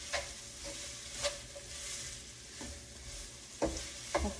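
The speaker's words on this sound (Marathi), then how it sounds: "त्या हलकस हलवायचं आहे आपल्याला" Chopped onions sizzle steadily in a hot pan while a spoon stirs them gently, giving about five soft scraping strokes at uneven intervals, with no voices.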